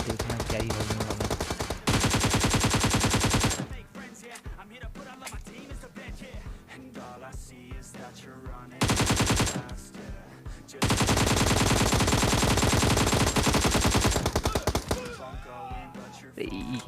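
Gunfire in a shooter video game comes in loud automatic bursts that alternate with quieter stretches of single shots and clatter, some of them rapid and close.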